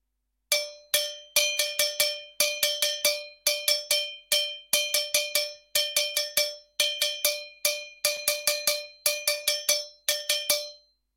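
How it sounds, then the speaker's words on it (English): A single cowbell played alone in a repeating syncopated salsa timbales bell pattern, bright metallic strokes in quick clusters, loud and close. "And this is the timbales bell pattern,"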